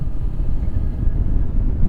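Steady roaring wind buffeting while riding a motorcycle behind a windscreen, a dense low rumble that holds constant without any pause, loud and close with no talk.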